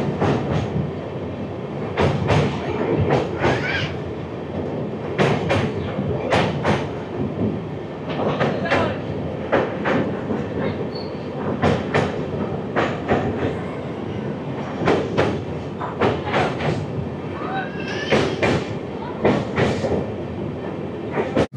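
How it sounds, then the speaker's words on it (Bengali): Humsafar Express passenger train rolling over a river bridge past Kolaghat, a steady loud rumble with repeated rhythmic clatter of wheels over the bridge joints throughout. "এই যে ব্রিজ দিয়ে আমাদের ট্রেন যাচ্ছে"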